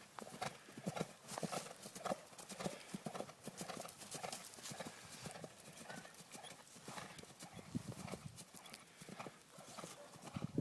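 A horse's hooves clip-clop in a steady rhythm during a riding lesson, fairly near and soft, while an instructor talks at intervals.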